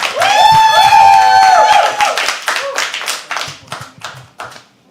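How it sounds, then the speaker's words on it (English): At a live poetry open mic, the audience claps and whoops loudly for a first-time performer, a close burst of cheering and applause that thins into scattered, fading claps. "Keep clapping."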